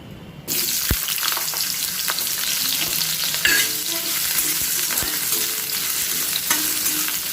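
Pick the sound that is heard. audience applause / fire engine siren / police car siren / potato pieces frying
potato pieces frying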